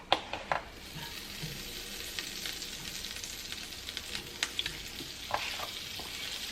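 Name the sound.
garlic butter melting and sizzling in a hot pan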